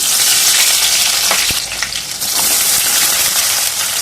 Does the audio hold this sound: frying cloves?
yes